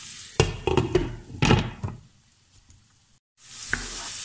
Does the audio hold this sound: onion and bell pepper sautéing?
yes